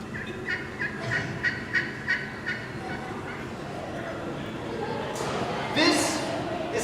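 A handheld turkey call, a peg-and-slate style caller, imitates wild turkey yelps and clucks in a short rhythmic series of sharp notes, followed by a brighter, louder burst near the end over a steady background hiss.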